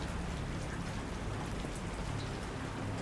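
Steady rain falls as a sound effect in a creepypasta reading, a dense, even hiss of drops hitting a surface with no breaks and no voice.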